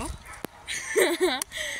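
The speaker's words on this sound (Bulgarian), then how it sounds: "както чувате има кучета, защото има приюти" Dogs near animal shelters in a largely abandoned area bark and yelp a few times at a distance, short wavering cries standing out from faint outdoor background noise.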